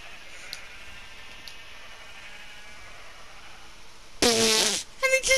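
A Minecraft sheep lets out a short, loud bleat near the end, followed by a couple of quick clipped sounds over a faint background hiss.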